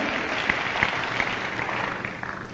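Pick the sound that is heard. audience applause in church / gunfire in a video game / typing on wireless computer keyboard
audience applause in church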